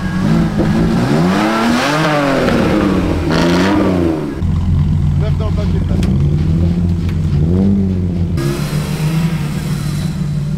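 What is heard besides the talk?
drift car engine revving while warming up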